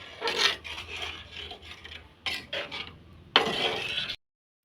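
A utensil scrapes and rubs around inside a cooking pot as food is stirred, in a few close, soft bursts of rasping contact separated by short pauses, with no talking.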